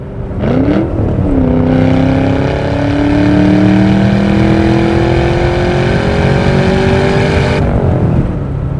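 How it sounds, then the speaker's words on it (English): The supercharged 4.6-litre V8 of a 2004 Ford Mustang Cobra roars as the car accelerates hard, pitch climbing steadily after a quick shift into third gear, then cutting off as the throttle lifts. "Third gear pulls in these cars are a blast."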